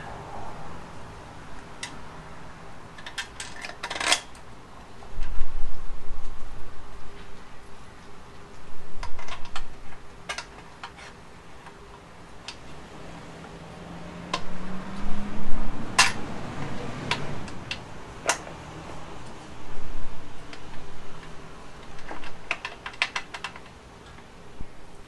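Bolts are fitted by hand and tightened during a Predator engine swap onto a Harbor Freight minibike: sporadic close metallic clicks, taps and ratchet-like ticks, with brief scraping bursts between quieter pauses.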